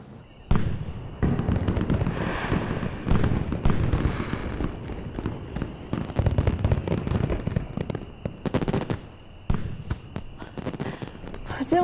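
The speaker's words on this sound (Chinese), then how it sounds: "见过这么多烟花，从来没见过这种颜色。" Newly made blue fireworks burst at an organised burning, a dense irregular barrage of loud crackling pops and bangs continuing throughout.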